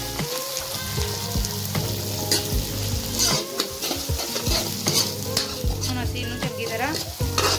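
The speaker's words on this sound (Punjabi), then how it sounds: "ਭੁੰਨਾਂਗੇ ਜੀ ਲਾਲ ਕਰਾਂਗੇ ਜੀ ਭੁੰਨ ਕੇ" Onions and green chillies fry and are stirred in a pan with a loud, steady sizzle, plus repeated scraping and clattering of a spoon against the pan, with no talking.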